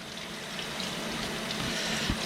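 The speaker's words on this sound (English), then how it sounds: "And basically just run water on it, clean it up a little bit." Tap water runs steadily over a freshly cut white perch fillet being cleaned at a sink, a continuous splashing hiss at close range with a small knock near the end, no voices.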